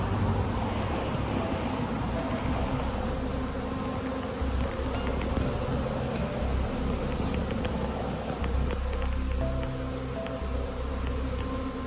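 A dense, continuous buzz of a honeybee swarm fanning toward the front of the hive fills the air, loud and close, with a steady droning hum that persists without pause.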